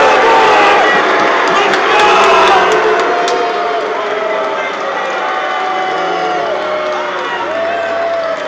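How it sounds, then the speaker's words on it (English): A large audience roars, cheers and boos as a man is removed from the stage, a loud dense crowd din with shouts and whoops throughout, easing slightly toward the end. "you're going to hear the crowd go crazy"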